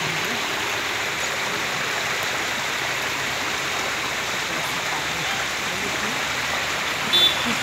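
Floodwater from a swollen river pours steadily through a British-era cemetery, a continuous broadband rushing that holds an even level throughout, with a brief louder splash near the end.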